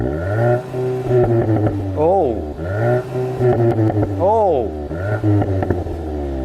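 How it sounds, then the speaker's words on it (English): A Volkswagen Golf GTI exhaust is revved repeatedly in sport mode, with several rising and falling blips over a steady idle burble. A voice briefly exclaims between the revs. "So it does sound better than a standard, you know, everyday Golf's exhaust"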